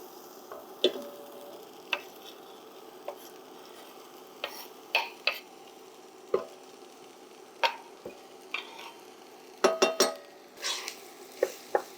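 Onion sautéing in hot oil in a soup pot, a soft, low sizzle under repeated sharp knocks and scrapes of a spoon against the pot, close and otherwise quiet.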